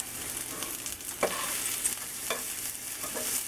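Sausages fry in a pan with a steady close sizzle, punctuated by a few scraping knocks as they are turned, no voices.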